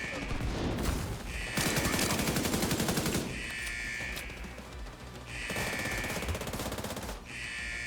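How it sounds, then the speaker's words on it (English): Rapid automatic fire from a hostile artillery turret in a shooter video game, sustained loud bursts of rattling shots in alternating waves lasting several seconds, with no voices. "Hostile artillery turret detected."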